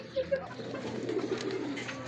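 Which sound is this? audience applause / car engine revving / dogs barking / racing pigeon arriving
racing pigeon arriving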